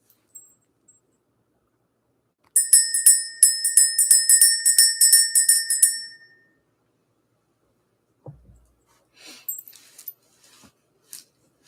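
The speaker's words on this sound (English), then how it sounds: "J Mike, let's go ahead and ring the bell" A bell rung to clear energy, a bright metallic ringing from a rapid burst of strikes lasting a few seconds and then fading, close and clear in a quiet room, followed by soft handling noises.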